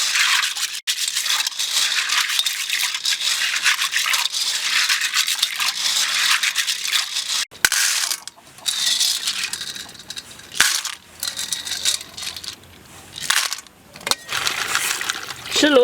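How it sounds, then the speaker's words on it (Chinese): Handfuls of small river snails being rubbed and washed by hand in water, close rattling and clicking of shells against each other with splashy gaps and uneven pauses. "给它洗洗，要搓洗掉里面的脏东西，泥巴、那个什么藻之类的"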